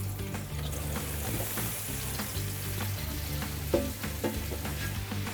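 Onions sizzle in a hot pan, a steady close crackle of frying with a few soft clinks and stirring sounds and no talking.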